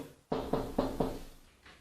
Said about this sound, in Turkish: önce kapısını tıklatalım